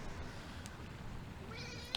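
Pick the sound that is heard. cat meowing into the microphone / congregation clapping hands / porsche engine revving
cat meowing into the microphone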